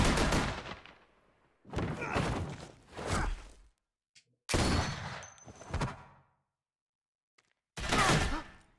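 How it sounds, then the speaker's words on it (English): Gunfire in The Walking Dead: A New Frontier, several loud close bursts of rapid shots separated by brief silences, each volley sharp and booming. "I hear gunfire."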